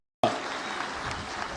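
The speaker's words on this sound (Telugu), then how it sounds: "గట్టిగా చప్పట్లు కొట్టి ఆయన్ని అభినందించండి." An audience bursts into applause at a public felicitation event, the clapping starting suddenly and holding as a steady crowd patter.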